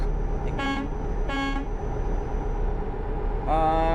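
A truck horn honks three times in a truck driving video game, where the rig hauls a trailer of cut flowers. The blasts are short and loud over a low engine drone, and the last one is held slightly longer.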